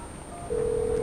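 Classroom telephone speakerphone giving off a steady electronic tone that switches to a louder, sustained beep partway through, clear and close with no talking.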